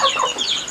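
A crossbred chicken, half layer hen and half Bangkok fowl, gives a quick burst of several close, bright clucks in under a second.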